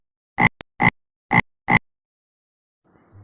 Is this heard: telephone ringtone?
no